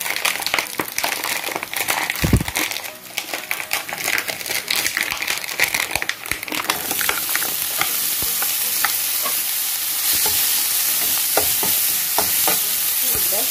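Bacon frying in a pan for a big breakfast gives a loud, dense sizzle with crackling bursts and scraping stirs, rising into a brighter, steadier hiss partway through; no voices.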